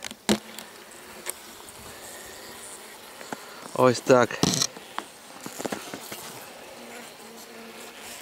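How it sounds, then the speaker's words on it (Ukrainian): Disturbed honeybees in an opened clay skep hive buzz close by, a restless drone with scattered bumps and handling noises, and a person says a couple of words partway through. "Бджоли є."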